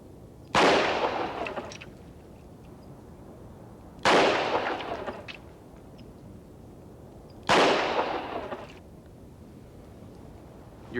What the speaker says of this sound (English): Okay, now fire when ready.